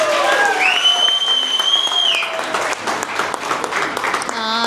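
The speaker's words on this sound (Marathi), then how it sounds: "परत एकदा जोरदार टाळ्या." An audience at a Vestige company celebration event applauding, a dense steady clapping crowd close by with a whistle-like tone and some voices over it.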